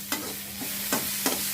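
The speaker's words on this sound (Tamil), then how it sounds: "இப்போ வெங்காயமும் கேப்சிகமும் நல்லா வதங்கிடுத்து." Sliced onion and capsicum sizzle steadily in a pan while leftover chapati noodles are being cooked, with a spoon scraping and stirring in three or four quick strokes over the constant frying hiss.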